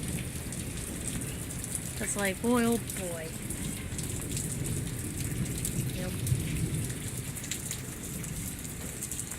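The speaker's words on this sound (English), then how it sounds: "Oh good, it's starting to rain more." Heavy rain falls steadily during a lightning storm in a forested area, a dense constant hiss of drops on surfaces. Thunder rumbles low underneath, and someone speaks briefly over it.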